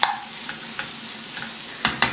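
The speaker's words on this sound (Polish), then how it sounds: "smażymy to" Ingredients for Polish-style beans with meat in tomato sauce fry in a pan, a steady close sizzle broken by a few sharp scraping stirs, with nobody talking.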